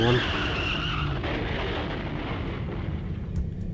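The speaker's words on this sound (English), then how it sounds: "Then there was an oddly familiar sound. Another car accident, again, right outside my door." A car crash with skidding tires in the video game Corpse Party: Blood Drive, a loud burst of tire screech and crunching impact that fades into a rumbling tail.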